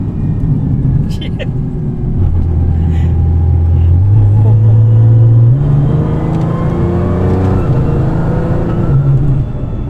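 A Nissan GT-R R35 tuned to 1300 hp accelerating hard, its loud engine drone climbing steadily in pitch through the gears, close and continuous with a voice speaking over it.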